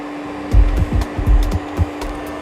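A Clipper DUO carpet cleaning machine sprays and vacuums, a steady mechanical hum with a tonal whine under repeated low thumping strokes as the wand moves back and forth across carpet, no voices.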